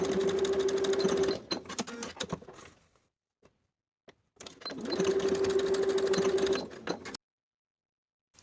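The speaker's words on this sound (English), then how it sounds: "Sew both short edges with a 1/2 inch seam allowance." A sewing machine stitches a short-edge seam on a plaid wool jacket in two loud, steady runs, each ending with a few slow clicks, with near silence between them.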